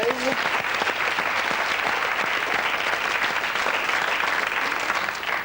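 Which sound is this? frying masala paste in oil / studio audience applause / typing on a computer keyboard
studio audience applause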